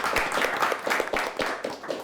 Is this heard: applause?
yes